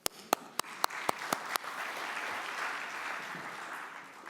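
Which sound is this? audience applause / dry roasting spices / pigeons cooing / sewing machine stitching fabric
audience applause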